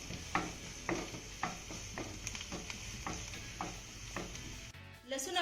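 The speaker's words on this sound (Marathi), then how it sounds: "आता हा लसूण आपल्याला हलक्या सोनेरी रंगावरती परतून घ्यायचा आहे" Chopped garlic sizzles in hot oil while being stirred, a steady frying hiss broken by regular scrape-like stirring strokes, close and clear, with a brief louder disturbance near the end.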